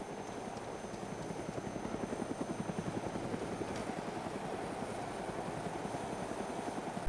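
A helicopter flying in Arma 2 DayZ Mod, its rotor chopping in a fast, even pulse over a steady engine drone, moderately close and continuous throughout, with no voices.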